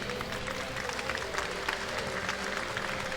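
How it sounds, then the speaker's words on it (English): Audience applause for archery champions at a championship shoot-off, a steady broad wash of clapping from a crowd filling the whole stretch at moderate level. "Ladies and gentlemen, please give a warm round of applause"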